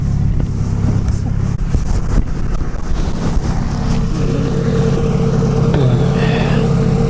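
An all-wheel-drive Honda Accord CB7 on the move, giving a loud steady engine and road rumble with wind buffeting the microphone and a slight rise in pitch near the end.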